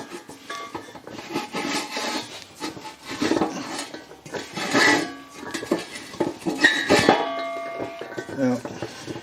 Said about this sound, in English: we'll clean that thread out with a tap